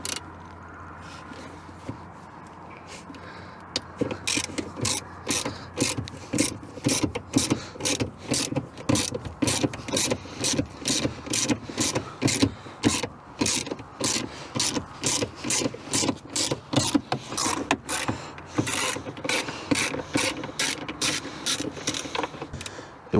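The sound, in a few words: ratchet loosening bolts on Subaru Impreza trunk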